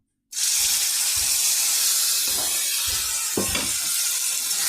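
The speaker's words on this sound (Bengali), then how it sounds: "তেলের মধ্যে আমি পেস্ট করে নিয়েছি বটবটিটা, এবার কড়ার মধ্যে দিয়ে দেবো।" Yardlong bean paste hitting hot oil in a wok, a sudden loud sizzle that starts abruptly and holds steady, with a few soft stirring scrapes and knocks underneath.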